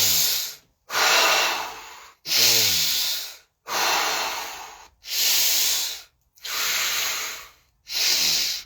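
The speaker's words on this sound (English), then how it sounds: "It's just some breathing technique that basically it's a spiritual breathing technique" Rhythmic deep Wim Hof style breath work: seven loud, close, hissing breaths, each lasting about a second with short silent gaps between, steady and even in pace with no talking.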